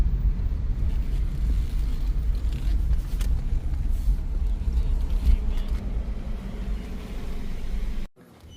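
A car rolls into an AutoZone parking lot, a low steady engine and road rumble close by for about eight seconds before cutting off abruptly near the end.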